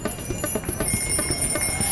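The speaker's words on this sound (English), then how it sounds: "That's the sound of a road full of people on bikes." Bicycle bells ring repeatedly and overlap on a road crowded with cyclists, giving a steady, busy chiming over a constant background hum.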